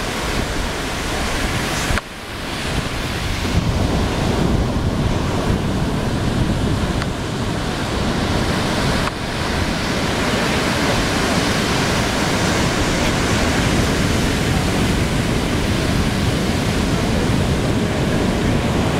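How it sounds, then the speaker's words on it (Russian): Ocean surf at Phuket roars as a dense, continuous wash of breaking waves, loud and close, with a brief dip in intensity near the start and no speech. "Там уже спокойнее волны, поэтому просто качаться на волнах."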